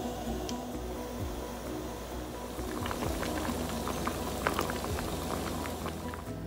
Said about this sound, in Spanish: Y ahora los vamos a poner a hervir aproximadamente entre 45 minutos o una hora.